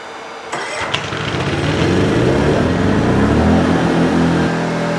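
An EcoFlow smart generator starts up automatically, a sharp crank followed by a steady mid-pitched engine drone that holds loud and close for several seconds until cutting off near the end.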